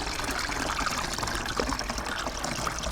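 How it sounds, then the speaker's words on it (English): Homemade elderflower champagne liquid streams steadily through a sieve, a continuous close trickle and splash with no talking. "You just pour it through the sieve."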